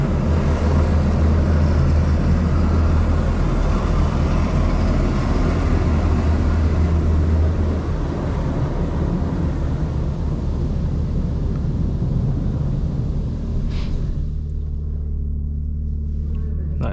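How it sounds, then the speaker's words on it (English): An automatic car wash spraying the underside of a 2025 BMW M4 Competition xDrive, a steady loud rushing, rumbling wash with a low drone that thins out and quiets toward the end. "I take it really slow on the entrance here so that the underside of the car gets washed nicely"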